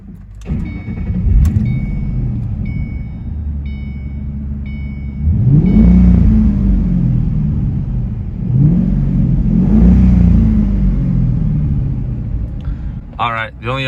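Inside the cabin of a 2007 Ford Mustang Roush V8, soft warning chimes ring at the start. The engine then settles into a muffled, throbbing idle, broken by two swelling revs that fade back down, ending with a brief clatter.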